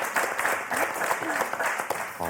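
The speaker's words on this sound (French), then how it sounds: "on vous applaudit très fort" Studio audience clapping at the close of the Motus television game show, a steady dense patter with voices chattering over it throughout.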